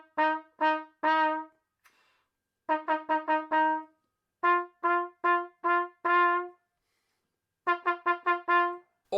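Double-tonguing exercise on a wind instrument: groups of short, crisp tongued notes, first spaced out at a slow pace, then in quicker clusters, clean and close with silence between groups.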